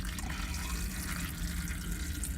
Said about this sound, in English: My oil's still draining out into the side of my catch pan.